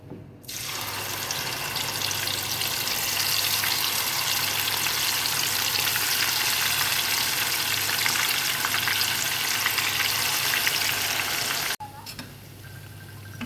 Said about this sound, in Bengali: চিকেনটা এখন ভাজা করবো